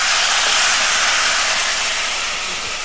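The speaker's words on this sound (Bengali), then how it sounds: "জল দিচ্ছি। এটা রসা হবে বলে" Water poured into a pan of simmering pointed gourd stem curry in a rural Bengali kitchen makes a loud, steady hiss and sizzle that holds for the whole stretch and eases off slightly toward the end.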